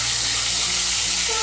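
Chopped tomato goes into hot spices frying in a pan while cooking vegetarian young jackfruit, giving a steady, close sizzle and crackle that holds evenly throughout with no talking.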